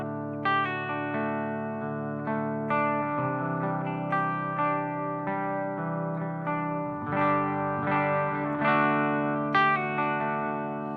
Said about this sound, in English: listen to the tubes in the background. I'm running this through tube amp.